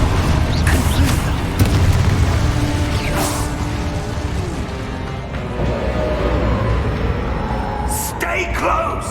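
Confringo spell explosions in the Hogwarts Legacy video game, several loud booms and bursts over rumbling action sound, with a voice calling out briefly.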